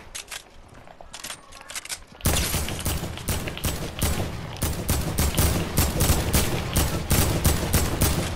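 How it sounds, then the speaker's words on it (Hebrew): Rapid bursts of gunfire from a Fortnite squad match, loud and sustained, rattling in dense clusters that grow heavier partway through with almost no pause. "יריות, יריות כאן."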